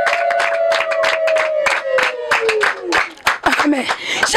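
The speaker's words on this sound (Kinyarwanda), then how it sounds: "Komera Imana amashyi." A congregation in a prayer room claps in a quick, steady rhythm, with loud, close hand claps beneath a voice that sings or calls out throughout.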